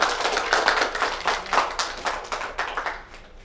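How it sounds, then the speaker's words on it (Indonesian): Audience clapping for the judges at a student debate, a fairly small crowd giving a few seconds of loud, uneven claps that thin out and fade toward the end, with no talk over it. "Beri tepuk tangan untuk dewan juri kita pada siang hari ini."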